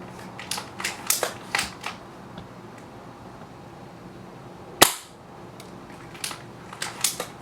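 Several sharp snapping shots from an Echo1 ASR airsoft sniper rifle, a few in a spaced cluster early on, one louder crack near the middle, then more light pops, all over faint outdoor background hiss.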